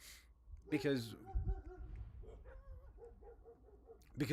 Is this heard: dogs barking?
yes